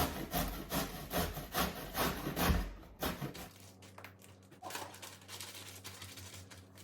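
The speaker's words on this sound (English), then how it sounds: "Okay, I'm going to grate this yellow one, or at least part of it." Yellow zucchini grated by hand on a grater, rapid rhythmic rasping strokes up close for about three seconds, then slower scattered scrapes and a low steady hum.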